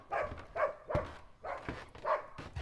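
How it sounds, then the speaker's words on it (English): A dog barks steadily, five or six sharp, evenly spaced barks close to the listener and at moderate loudness, with no voices over them. "And this dog! She won't quit yelling at me."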